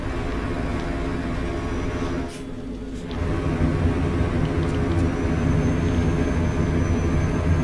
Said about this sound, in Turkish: Tarder sesi böyle olur işte ya.